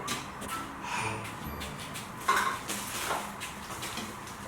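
Utensils being handled from an Instant Pot unboxing, a spatula, soup ladle and measuring cup knocking and clinking together close by in a few light taps, with one sharper clack near the middle.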